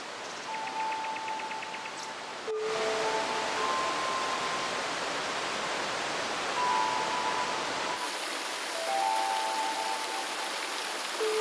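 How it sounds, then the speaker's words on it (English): A waterfall in Lombok gives a steady, broad rush of falling water that stays fairly constant throughout, with a few faint tonal sounds over the roar and a slight shift in its texture partway through. "I like the waterfall even better than the main waterfall in Bali."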